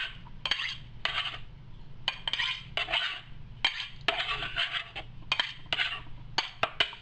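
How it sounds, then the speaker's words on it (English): Swordfish being mixed with mayonnaise in a bowl, with repeated clinks and scrapes of a utensil against the dish in short irregular bursts over a low steady kitchen hum. "So this we're going to mix with the mayonnaise."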